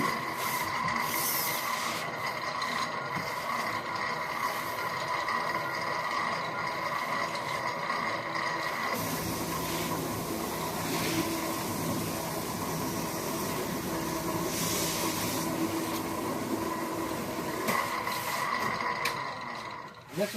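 A metal slitter machine cuts an aluminum roof panel sheet into strips, giving a continuous mechanical whir and hiss that shifts character partway through, with no talk.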